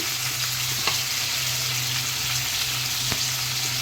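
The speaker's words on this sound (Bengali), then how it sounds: "একটু নাড়াচাড়া করতে থাকবো ভাজতে থাকবো কুমড়োটা অনেকটা ভাজা হয়ে গেছে" Pumpkin pieces fry and get stirred in a pan for a pumpkin-and-hilsa dish: a steady, close sizzle runs throughout, with a couple of sharp stirring clicks against the pan.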